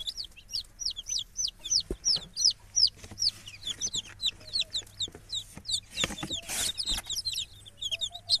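Newly hatched Arab chicks in an incubator peep rapidly and continuously, with high, bright chirps close by and a few soft bumps and rustles underneath.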